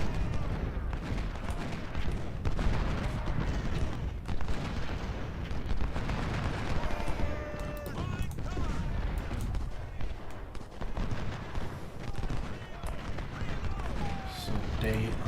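Artillery fire and musketry in the Civil War strategy game Ultimate General: Civil War, a continuous rumble of booming cannon shots and crackling volleys, with someone talking over it.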